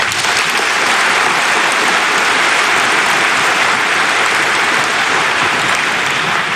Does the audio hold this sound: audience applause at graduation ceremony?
yes